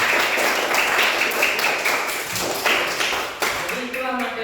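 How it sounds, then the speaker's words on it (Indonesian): Primary school pupils in a sixth-grade classroom clapping for themselves, a close, irregular patter of claps and taps that swells and dips, with a voice coming in near the end. "tepuk tangan untuk diri kita sendiri"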